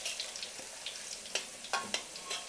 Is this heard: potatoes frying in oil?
yes